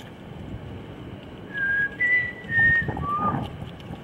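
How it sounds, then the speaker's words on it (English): A person whistles outdoors, four short clear notes with no echo, fairly close over faint background noise. "Nope, no echo on the whistle."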